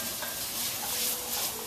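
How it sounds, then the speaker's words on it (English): Onions and carrots sauté in a soup pot with a dense, steady hissing sizzle, close and even, with faint stirring clicks. "now we got our onions and our carrots going"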